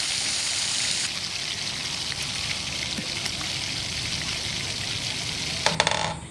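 Sweet potatoes cook on a covered tawa with a steady close sizzle and faint crackle, ending in a few brief clinks.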